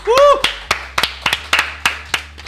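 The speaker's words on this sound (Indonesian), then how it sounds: "Tepuk tangan semuanya." Scattered, sparse clapping from a small studio group on an Indonesian finance education program, about ten separate claps in an uneven rhythm, with a brief voice-like tone at the start.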